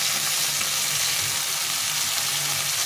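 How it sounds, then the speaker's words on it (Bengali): Fresh fish frying slowly in oil makes a continuous, even sizzling hiss that stays steady throughout, close and moderately loud, with no voices. "এইভাবে মাছগুলোকে আস্তে ভেজে নেব"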